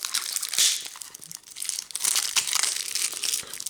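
Crinkling plastic wrap torn and crumpled off a deck of trading cards, close and continuous with crisp crackles and a few sharper tearing bursts, no talking.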